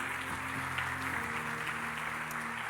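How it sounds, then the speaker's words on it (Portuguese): A church congregation applauds during an evening service, with steady, fairly soft clapping over a low sustained musical tone in the background. "Se você crê nisso, aplauda o nome do Senhor nesta noite."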